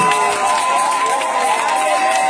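A church congregation at a Thursday worship service cheering loudly together, a dense sustained roar of many voices shouting and praising throughout, close and full.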